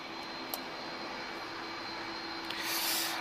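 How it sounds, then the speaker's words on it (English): A steady, faint roar from two CF6 jet engines drones throughout, with a whining tone and a rushing swell near the end as a landing airliner passes at Lisbon Airport. "I can hear the sound of 2 CF6 engines, completely unmistakable"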